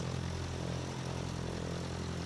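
Steady drone of a Diamond DA40's single propeller engine in Microsoft Flight Simulator 2024, a constant low hum with a buzzing harmonic layer and no talking.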